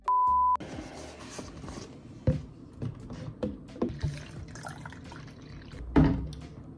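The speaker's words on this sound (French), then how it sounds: "on va remplir le shaker" Water poured into a protein shaker, entering after a short electronic beep as a run of close splashes and drips that rise and fall over several seconds, with no voices.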